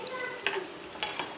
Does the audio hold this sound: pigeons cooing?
no